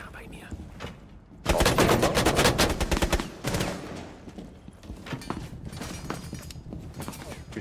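Gunfire in the tactical shooter Rainbow Six Siege: a dense, loud burst of rapid automatic shots erupts, followed by scattered sharper single shots and clatter, with players talking over it.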